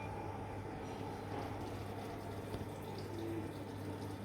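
A steady, low rushing hiss of water flowing into a Haier washing machine with a broken lid, continuous and faint with a constant low hum throughout.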